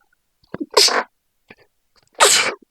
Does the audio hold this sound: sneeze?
yes